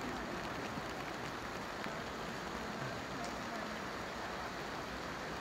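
Rain falling on the old bridge in Mostar: a dense, even hiss of steady rainfall covering the whole stretch with no pauses.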